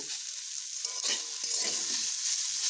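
Fiddlehead fern greens sizzle steadily in a hot pan, with scraping stirs from a spatula cutting in and out of the constant hiss, close and fairly loud, with no talking.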